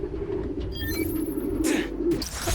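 Pigeons coo softly in a park setting within the Spider-Man: Miles Morales game, low murmuring calls from a group over a steady ambient hum, with a couple of brief brighter chirps.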